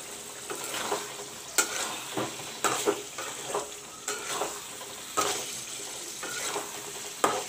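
Tomato paste sizzles steadily in a hot pan for a Bengali aloo dum, with a spoon stirring and scraping in irregular clinks and rasps over the frying hiss, close and clear with no talk.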